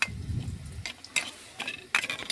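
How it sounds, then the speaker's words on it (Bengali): A spoon mixes spices with water in a bowl while onions fry nearby, giving faint scraping stirs and a few light clicks against the dish, soft and close with quiet gaps between. "জল দিয়ে আমি মশলার সাথে ভালোভাবে একটা চামচ দিয়ে মিশিয়ে নেব।"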